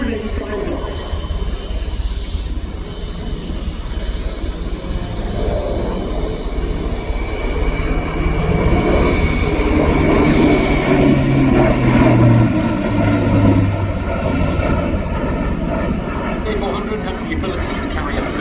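Loud, continuous turboprop roar of an Airbus A400M military transport accelerating through a display pass, with a rising engine drone and propeller hum over a commentator's voice.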